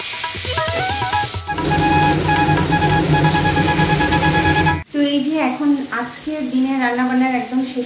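Sliced potatoes for aloo bhaji fry in hot oil in a home kitchen, a steady close sizzle running through the whole stretch under loud music.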